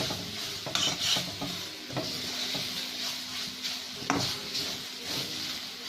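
Cluster beans tossed with salt and chilli powder in a pan, a spoon scraping and stirring in steady bursts over a soft, continuous sizzle, with a few clinks of utensil against metal.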